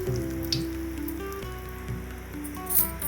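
Red chillies and curry leaves splutter in hot oil while tempering for sambar rice, a soft, steady crackle and sizzle with scattered pops, fairly quiet, over a faint tonal background hum.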